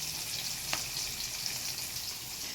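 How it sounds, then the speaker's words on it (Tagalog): Steady, quiet sizzle of food frying in a pan, a continuous crackling hiss with one small pop. "Ang ating pinipreto"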